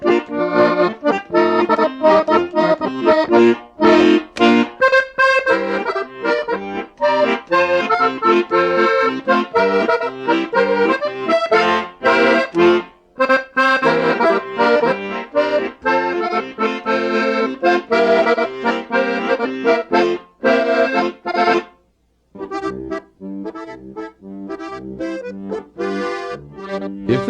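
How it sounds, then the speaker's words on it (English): A diatonic button accordion plays a continuous, full-bodied tune, loud and close, with steady bellows-driven chords and melody, a brief break near the end before the playing resumes, and no voices. "what you're hearing is a diatonic accordion"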